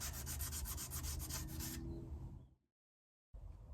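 Vigorous scrubbing of a Maserati GranTurismo wheel hub with a heavy-duty Scotch-Brite pad, rapid rhythmic rasping strokes close up that stop abruptly, then a short silence before the scrubbing resumes.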